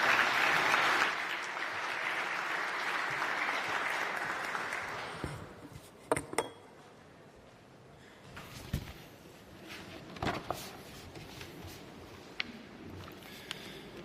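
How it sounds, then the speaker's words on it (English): Conference audience at an international recovery and reconstruction event applauds to welcome Ukraine's Prime Minister Denis Shmyhal, a dense hall-filling clapping that fades after about six seconds into scattered claps, shuffling and room noise. "join me with your applause in welcoming Prime Minister Denis Shmyhal of Ukraine to the podium"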